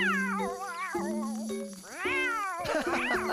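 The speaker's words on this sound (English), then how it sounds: "You just made Pilchard a very happy cat" An animated cartoon cat meows in a string of rising and falling calls, loud and close, with a faint jingling touch near the end and no talking.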